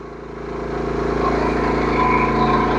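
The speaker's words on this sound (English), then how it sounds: "Generator sounds good. Handles the load real good." An AI-Power 8000 watt inverter generator runs steadily under heavy load, a loud, close, even engine drone with a rhythmic pulsing throb that swells slightly and holds, with no voices.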